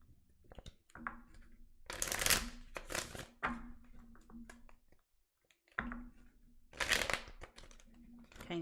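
A deck of cards being shuffled in several quick riffling bursts, with pauses and handling rustles between them and a person speaking in the gaps.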